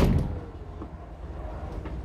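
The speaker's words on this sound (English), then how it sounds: "when you slam the door just a little bit, it will pull the door in" A campervan's power-assisted sliding door is pulled shut, a heavy thump at the start that fades into a low rumbling hum inside the vehicle, fairly close.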